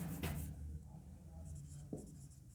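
Marker strokes on a classroom board during a physics lecture, a few scratchy squeaks standing out faintly against a low background hum.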